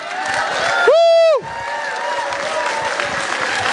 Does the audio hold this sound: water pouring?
no